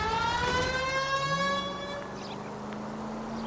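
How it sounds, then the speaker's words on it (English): A steady police car siren wail in the game L.A. Noire, with stacked harmonic tones, loud at first and then easing slightly, over a low engine drone. "Can we hit the siren, Phelps?"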